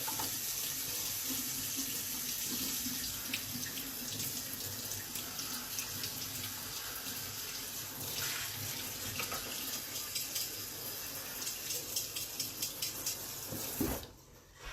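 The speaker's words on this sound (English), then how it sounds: "Let me rinse this off real quick" A pan is rinsed under a running kitchen tap, with water hissing and splashing steadily for about fourteen seconds before the flow cuts off abruptly.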